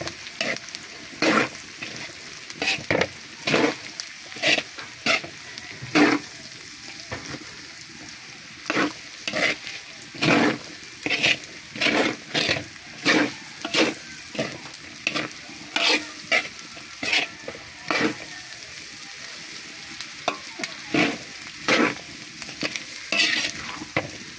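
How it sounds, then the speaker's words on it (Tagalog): Dinuguan, a Filipino pork blood stew, is stirred in a frying pan, with rhythmic scraping stirs repeating about every second over a steady close sizzle, loud and continuous without talk. "Haluin na natin."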